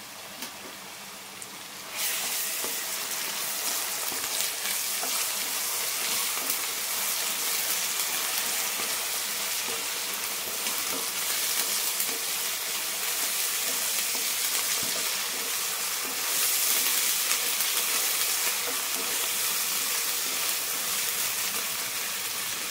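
Onions with plenty of ginger garlic paste fry in a pan for Andhra fish curry, giving a dense, steady close sizzle that starts abruptly and continues evenly, with faint stirring and no speech.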